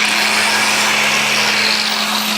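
A 4.5 inch angle grinder cleans up a weld on a metal piston skull, making a loud, continuous whining grind at close range with a steady high tone and no pauses.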